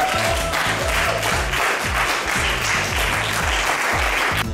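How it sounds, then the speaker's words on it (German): Steady applause from a crowd at a domino competition, dense continuous clapping at moderate loudness with no talk. "Ein Applaus"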